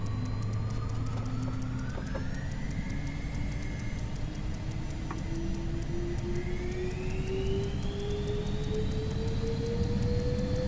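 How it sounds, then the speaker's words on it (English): Learjet 35A jet engines in a flight simulator game build during a rolling takeoff, a steady roar with slowly rising whining tones and a faint regular ticking throughout. "We'll do a rolling takeoff here."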